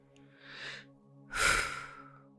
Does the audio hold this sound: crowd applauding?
no